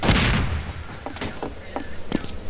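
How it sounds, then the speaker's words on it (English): Sharp gunshots from a Garry's Mod Trouble in Terrorist Town round, a loud burst at the start followed by several scattered, fainter shots at mid distance. "You hear gunshots? Yeah, I'm hearing gunshots."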